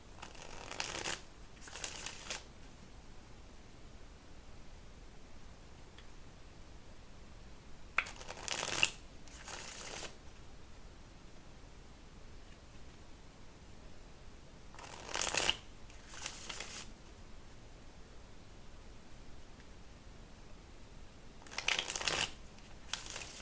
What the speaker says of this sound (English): I swear I could shuffle these cards all day.